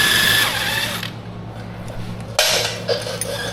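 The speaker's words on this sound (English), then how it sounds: "Then I switch over to a 14mm socket. Unbolt the lower shock mount." A power tool with a 14mm socket unbolts the lower shock mount on an ATV, a Honda Foreman, Rancher or Rubicon: bursts of high whirring with metallic clinks, a quiet pause, then another whirring run.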